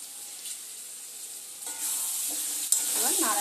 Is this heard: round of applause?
no